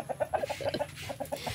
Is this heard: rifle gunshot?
no